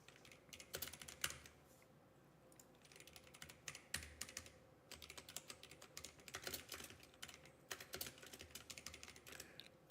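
Steady, quiet typing of code on a computer keyboard: rapid, close key clicks in uneven flurries with brief pauses, heard alone without speech over a low background hum.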